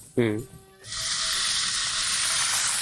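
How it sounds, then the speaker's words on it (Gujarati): Green chillies sauté in hot oil in a pan, a bright steady sizzle that starts right after a brief voice and keeps hissing evenly to the end. "થોડું બ્રાઉન જેવું દેખાય ત્યાં સુધી એને આપણે સોતળી લઈશું"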